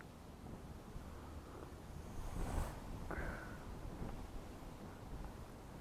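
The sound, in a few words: strong wind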